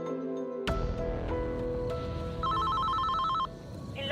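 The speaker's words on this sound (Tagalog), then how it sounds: "malakas sa pagtunog ng aking lumang keypad cellphone mula sa aking bag" An old keypad cellphone ringing from inside a bag, a loud, insistent electronic ringtone with a repeating beeping pattern, close and alone without talk.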